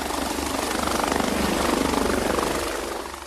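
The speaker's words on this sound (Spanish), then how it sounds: "el helicóptero lo sobrevoló en el momento justo" A helicopter flying overhead, its steady rotor thrum filling the air at constant loudness, with wind-like broadband rush and no voices.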